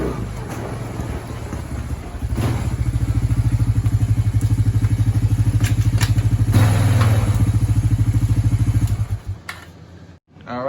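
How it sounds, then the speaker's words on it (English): A four-wheeler ATV rolls into a shop, its engine a close, steady putter with a rattling rhythm that swells, holds for several seconds, then fades as it stops. "and then the four-wheeler is gonna come in."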